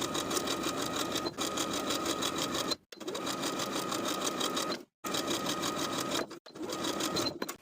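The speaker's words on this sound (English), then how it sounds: "we'll sew the hem facing in place all the way around along the finishing stitches" A sewing machine runs steadily, stitching a skirt's hem facing in place, in close, loud bursts of fast mechanical whirring separated by three brief stops.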